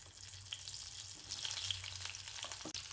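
Stuffed capsicums sizzle steadily in a spoonful of hot oil in a wok, a continuous close, moderately loud frying hiss with a low bubbling undertone and no talk.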